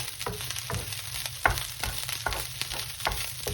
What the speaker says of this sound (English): we scrape all our rice vegetable mixture to one side